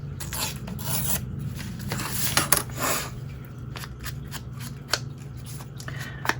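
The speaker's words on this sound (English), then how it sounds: "I'm going to see if I can tear that right there." Paper being torn or worked by hand for a junk journal, a steady rasping, rustling scrape running throughout at close range, with a few sharper crisp snaps near the middle and end.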